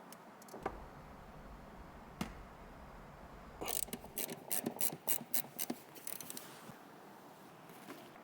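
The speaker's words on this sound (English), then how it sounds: "I'm just using a ratchet to take this off" A hand ratchet removing car seat bolts in a BMW G80 M3 clicks in quick bursts of rapid ratcheting strokes after a quieter stretch with a few isolated knocks, close by and fairly soft.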